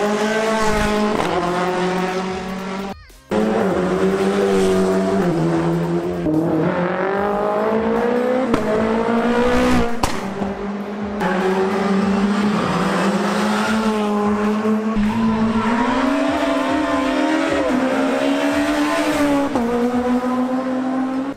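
Powerful rally cars race along a special stage at the Rallye de Saint Marcellin, engines roaring loud and close as they rev hard and shift through gears, with a brief dropout before another car storms past.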